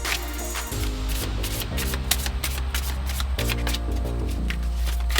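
Tarot cards shuffled by hand at close range, with rapid riffling bursts and soft slaps repeating in quick succession.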